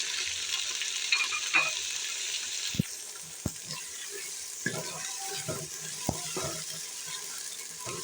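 Chicken frying in four large spoons of oil with browned onion, ginger and garlic, a steady close sizzle with occasional stirring clatters and spoon knocks against the pot.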